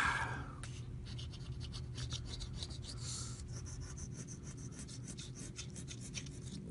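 A Hoosier Lottery Power 5s scratch-off ticket is scraped in short, rapid rasping bursts that repeat close up and fairly quiet, with no talk over the scratching.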